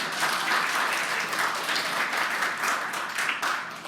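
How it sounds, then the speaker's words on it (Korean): A church congregation at a homecoming Sunday service applauds a young member's rehearsal with steady, dense clapping at moderate loudness. It fills the room evenly and eases slightly near the end. "우리 한슬이에게 박수"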